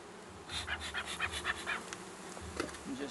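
A honey bee buzzes close by in repeated whining passes while a beehive is checked, with a brief voice speaking near the start.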